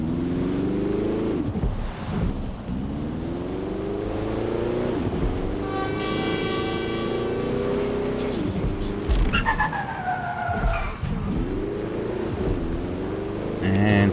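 A car in Watch Dogs: Legion drives through tight city streets, its engine droning steadily and rising and falling in pitch with gear changes and turns, with tire skids and faint game tones layered above.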